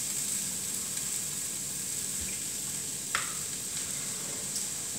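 Egg and bagel pieces sizzle steadily in a frying pan, a constant close crackle with one brief clink partway through and no talk.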